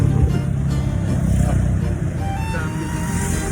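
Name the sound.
road traffic in Batangas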